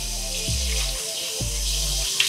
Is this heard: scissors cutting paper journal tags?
no